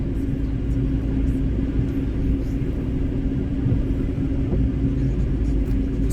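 A car drives through heavy morning traffic, heard as a constant low rumble of engine and road noise from inside, steady for several seconds with no clear talk.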